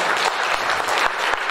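A church congregation claps steadily during a lively worship service, a dense, continuous wash of hand claps that stays close and loud for the whole short stretch.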